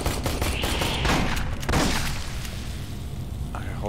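Rapid bursts of video game gunfire crackle and boom close up in a dense volley, then thin out. A player's voice calls out over the shooting.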